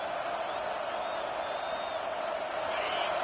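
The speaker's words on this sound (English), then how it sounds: "Decibels rising as the crowd gets behind this defense on third down." A stadium crowd in a football video game swelling into a roar on third down, a dense, steady wash of cheering heard fairly quietly behind commentary.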